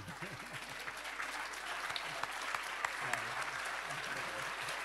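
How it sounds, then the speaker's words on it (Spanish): An audience at a literary talk applauds quietly and continuously, with soft murmuring voices mixed into the even patter of clapping. "Et maintenant, applaudissez."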